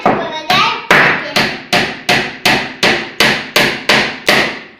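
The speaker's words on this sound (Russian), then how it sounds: "Я забиваю гвоздь, помогаю папе." A child drives a nail with a hammer, landing about ten steady, evenly spaced blows, each a loud sharp strike that rings briefly. There is no talking.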